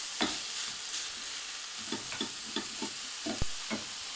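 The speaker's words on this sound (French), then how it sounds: "on va remuer tout ça, on va cuire ça quelques minutes" Ground beef with turmeric stirred and frying in a pan for a gratin, soft scraping strokes repeating every half second or so over a faint sizzle, with one sharp knock near the end.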